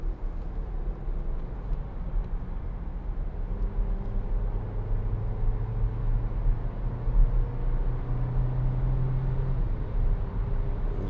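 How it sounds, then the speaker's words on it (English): Skoda Octavia 1.4 TSI DSG hatchback from 2016 accelerating behind another car at a roundabout, a steady in-cabin engine drone rising in pitch over road and tyre rumble, with no talk. "We'll just give it a bit of gas behind this Peugeot."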